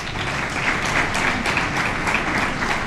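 Attendees at a formal ceremony honouring a foundation's founder give a round of applause. The sustained clapping is crowded and fairly loud, with a roomy texture and faint voices underneath.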